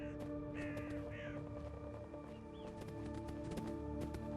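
Birds call in the video game Fallout London: crows caw several times up close over a busy backdrop of steady hum, clopping hooves and sharp clicks, with short chirping calls mixed in.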